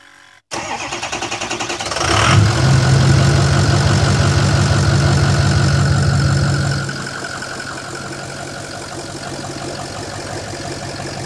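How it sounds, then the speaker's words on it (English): A Ford 6.0 Power Stroke diesel with an MBRP 5-inch turbo-back straight-pipe exhaust cold-starts after a brief crank, roaring up loudly for several seconds before settling into a steady, rumbling idle, close by and alone. "There's a cold start, 5-inch exhaust."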